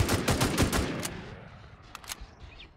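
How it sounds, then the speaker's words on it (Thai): AKM rifle fire in the game Infestation, a rapid burst of close, loud shots in the first second, followed by a couple of fainter isolated shots as the sound tails off. "แม็ก AKM ใกล้หมดแล้วน่าจะยิงได้อีกตัวหนึ่งนะ"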